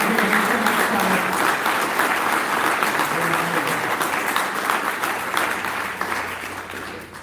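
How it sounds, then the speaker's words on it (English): Sustained applause from a live audience at a Chabad gathering honoring two guests, broad steady clapping that holds strong for several seconds and then begins to taper toward the end, with no talking over it. "I just want to take a second to give Ohad and Noam a round of applause."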